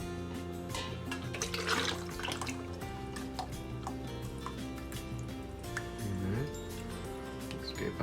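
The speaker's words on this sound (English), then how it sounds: "So we're just gonna pour that into the can." Ice cream mixture is poured into the can of an ice cream maker, a continuous wet pouring and splashing sound mixed with clinks and kitchen clatter, fairly close and steady throughout.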